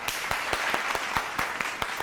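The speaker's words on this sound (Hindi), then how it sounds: "तालियां।" Studio audience applause on a comedy talk show, a few sharp separate claps at an uneven rhythm over steady background noise, moderately quiet.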